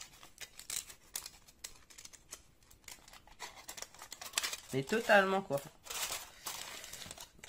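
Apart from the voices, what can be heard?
crinkling foil-like paper from a miniature kit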